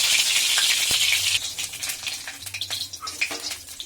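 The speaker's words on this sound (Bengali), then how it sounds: "কাজু ভাজা হয়ে গেছে, এর মধ্যে দিয়ে দিচ্ছি কিশমিশ" Cashews and raisins frying in hot oil for a mixed vegetable dal: a loud bright crackling sizzle that eases after the first second into a lighter bubbling fry with occasional stirring clinks, no voices.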